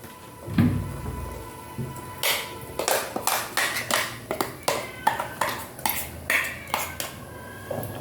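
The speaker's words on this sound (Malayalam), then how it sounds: "നന്നായിട്ടൊന്ന് ഇളക്കി കൊടുക്കാം." A spoon stirs kadala (chickpea) curry with ground spice paste in a pan, making a quick run of repeated metallic clinks and scrapes against the vessel, close and fairly clear.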